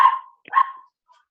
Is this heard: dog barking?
yes